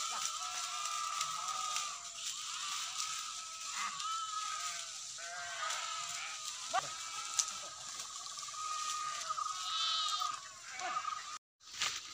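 Goats bleating in a sugarcane field during evening farm work while dry cane trash is burned; many overlapping bleats, fairly close and continuous, with faint voices in the background.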